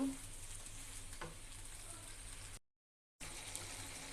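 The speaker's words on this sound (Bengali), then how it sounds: "আমি এটা নেড়ে চেড়ে দিব সবজিটা আমি ভালো করে কষিয়ে নেব" Vegetables with chana dal and boiled papaya being stirred in a pan, a steady soft frying sizzle with scraping of the spoon, broken by a brief silent gap before the sizzling resumes.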